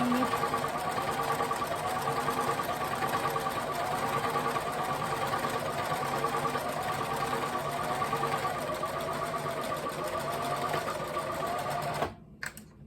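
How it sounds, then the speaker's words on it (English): Sewing machine stitching a standard seam through cloth scraps, a steady continuous mechanical whir running loud and close for about twelve seconds before stopping abruptly, followed by a few faint clicks. "I'm gonna go ahead and sew up one end. Again, just the standard seam."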